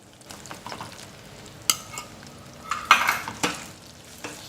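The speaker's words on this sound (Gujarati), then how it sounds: "ગોળ નાખ્યા બાદ આ રીતે કન્ટિન્યુ હલાવતા રહેવાનું છે, જેથી લોટ અને ગોળ બધું સારી રીતે મિક્સ થઈ જાય।" A spoon scrapes and stirs jaggery and roasted flour in a pan in a home kitchen, with soft sizzling, scattered clinks and a few sharper knocks against the metal, close by and with no talking.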